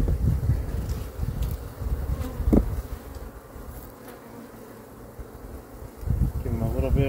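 Honey bees swarm and buzz around an opened hive in Texas while a beekeeper lifts boxes during the honey harvest. A steady, close insect drone fills the scene, with brief bumps and handling noises and low voices in the background.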